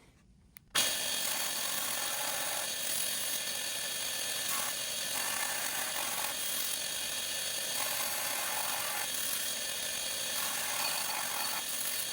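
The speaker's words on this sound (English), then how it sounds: "I'm gonna have to probably grind that bolt a little bit" Steady, loud grinding from a power tool working down a bolt on a custom-built shallow water motor, starting abruptly after a brief quiet moment and running continuously without pause.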